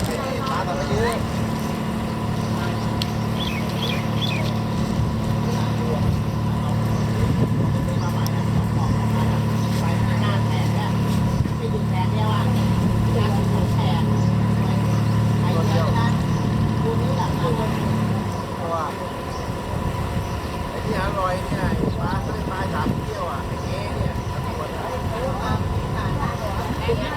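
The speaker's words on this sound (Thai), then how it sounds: "เรือขึ้นมาอีกแล้ว" A motorboat engine drones steadily at sea for most of the stretch, then drops away, while people talk over it and the water and wind noise carry on.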